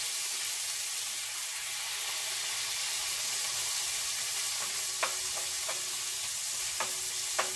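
A pan sizzles steadily on the stove while a pork roast fries for honey butter sauce: a continuous bright hiss with a few small pops and clinks near the end, heard alone and close.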